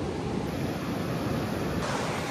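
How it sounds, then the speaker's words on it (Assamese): A mountain river in Dirang, Arunachal Pradesh rushes past in a steady, broadband roar, constant and close with no pauses or voices. "নদীৰ মাত শুনি পেলাই"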